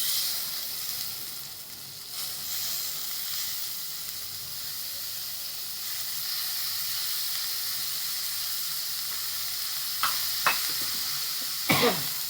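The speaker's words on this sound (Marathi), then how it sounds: "परतून घ्यायचं चांगलं हलवून घ्यायचं चांगलं" Cauliflower bhurji sizzling in a pan as it is sautéed and stirred, a steady hiss with a few scraping stirs near the end, with no talking.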